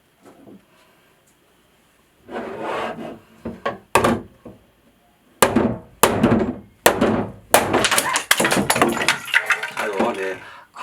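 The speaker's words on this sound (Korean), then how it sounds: "일반 PC 재질의 컨테이너를 제가 망치로 한번 때려서 단단함을 테스트해 보도록 하겠습니다" A hammer repeatedly strikes a standard PC (polycarbonate) plastic blender container in a hardness test, giving a run of sharp, loud knocks and cracks after a quiet start, with some scraping and handling noise between blows.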